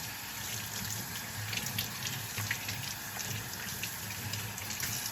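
Water runs steadily from a tap, a continuous close hiss and splash with no talking.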